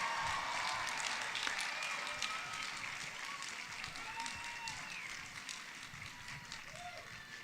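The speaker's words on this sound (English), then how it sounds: "can we have a round of applause for all the grads from the College of Arts and Sciences?" Audience applauding graduates of a university College of Arts and Sciences at a commencement ceremony, broad continuous clapping heard from a distance, fairly faint and even, with a few cheers rising over it.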